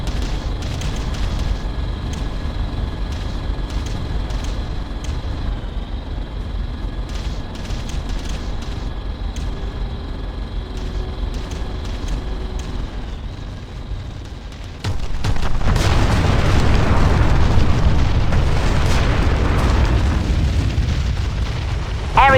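Artillery bombardment explosions in the video game Ground Control: a steady rumbling barrage of booms under game music, swelling into a louder, denser roar of blasts in the final stretch.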